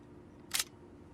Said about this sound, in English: It just opened on me pulling on the bolt.